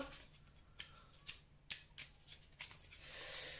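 Oracle cards are riffled and slid against one another during a search through the deck, producing a string of soft, close papery flicks and snaps at uneven intervals, quiet and with no talking.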